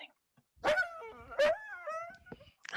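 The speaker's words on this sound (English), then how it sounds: "That's only the dog down in the barn." A dog in a barn whimpers and whines in a few high, drawn-out cries, fairly close and otherwise alone.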